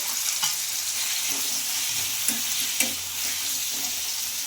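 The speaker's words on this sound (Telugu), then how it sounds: "ఆయిల్లో ఇప్పుడు టమాటా ముక్కలు అయితే వేసుకోవాలి ఇంకా అందులోకి వెల్లుల్లి అయితే వేసుకుంటున్నాను" Tomato pieces and garlic fry in hot oil, a steady close sizzle with occasional soft stirring knocks in the pan.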